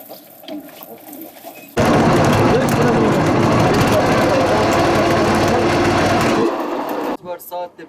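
A fire pump's motor starts up and runs loud and steady for several seconds, a dense droning rumble, then drops back to a quieter idle. Voices are heard before and after the run.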